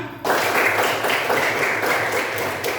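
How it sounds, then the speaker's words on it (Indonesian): Primary school class groups burst into applause after a sudden start, steady broadband clapping that carries on and tapers slightly toward the end. "Tepuk tangan dulu untuk kalian semua."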